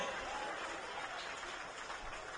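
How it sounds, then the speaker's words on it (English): Applause and crowd noise at a baseball game, the Energy City Cactus Rats at the Okotoks Dawgs, as a broad, steady wash of clapping from a distant stadium crowd, faint and continuous. "Let's have a round of applause for Garrett and Anderson helping us out"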